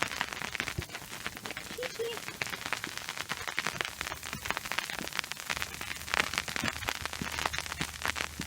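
Steady rain patters outdoors in a garden, a dense, continuous crackle of drops close by, with people talking intermittently over it.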